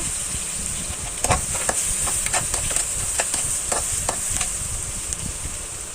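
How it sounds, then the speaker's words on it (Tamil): Onion, green chili and carrot stir-frying in a pan for string hopper kottu: a loud, steady sizzle with a string of quick clacks from the stirring utensil, close up and without talk. "நம்ம இப்போ ஒனியன் சேர்த்துக்கலாம் அப்படியே பச்சை மிளகா சீ வச்ச கேரட் சேர்த்துக்கலாம் அப்படியே பரட்டி விட்டுக்கோங்க நல்லா"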